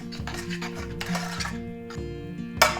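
A spoon stirs a sauce of sugar and fish sauce in a bowl, clinking rhythmically against the sides in quick repeated scrapes and taps, close and clear, ending with a sharper clink.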